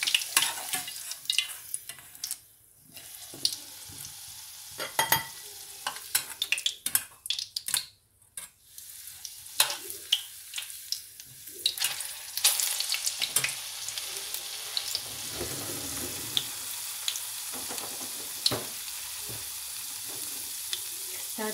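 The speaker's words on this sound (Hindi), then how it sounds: "यहाँ मेरे आलू फ्राई हो गए हैं, वो मैं निकाल लूँगी बर्तन में और यही तेल में डालूँगी प्याज में" Potatoes and onions fry in oil in a pan while a utensil stirs and scrapes, with steady sizzling and clinks of metal on cookware, close and alone.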